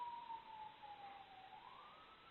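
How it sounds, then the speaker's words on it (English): A distant siren in New York City wails faintly, its tone slowly sliding down and then up, muffled and thin against a quiet background. "You can hear the sirens,"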